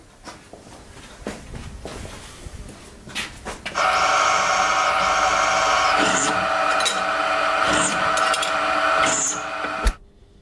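An electric drill bores nail holes through chef's knife handle scales, a steady high whine that runs for several seconds after scattered handling knocks and stops abruptly.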